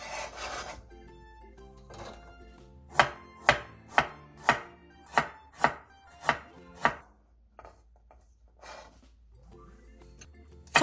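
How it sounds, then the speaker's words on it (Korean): A knife slices whole garlic cloves and a thumb-length piece of ginger on a cutting board, giving about ten crisp, evenly spaced chopping strokes in a steady rhythm, close and clear with no talking. "통마늘 10개와 엄지손가락 길이의 생강 한 톨을 편 썰어주세요."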